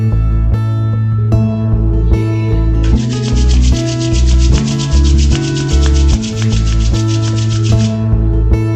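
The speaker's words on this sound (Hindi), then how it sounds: "तो अब हम जो है धीरे धीरे अपने हथेलियों को आपस में रगड़ें।" Palms slowly rubbed together during a guided meditation, a soft continuous friction swelling into a steadier, brighter rub for several seconds, close and alone over a sustained low drone.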